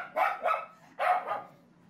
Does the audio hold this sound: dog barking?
yes